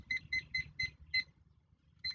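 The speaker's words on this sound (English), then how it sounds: "So I've got my timer back on." Kitchen timer beeping while chocolate chip cookies bake, five quick loud electronic beeps in a steady rhythm, a short pause, then another beep begins, over low background hum.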